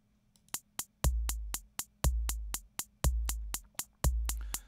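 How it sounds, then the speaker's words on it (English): Synthesized percussion patch in VCV Rack: a deep electronic bass drum booming once a second under a crisp hi-hat ticking four times a second, a steady mechanical loop, clean and close with no voices. "So there we can hear the bass drum playing once a second, and we can hear the hi-hat playing 4 times a second"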